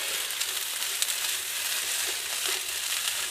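Diced yellow onions and peppers sizzle steadily in a hot pan while browning for a southwest chili, a close, continuous crackling hiss with small pops throughout.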